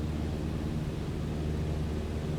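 A Cessna 152 piston engine in Microsoft Flight Simulator 2020 drones steadily in the cabin, a broad, constant hum with low tonal lines and no voices.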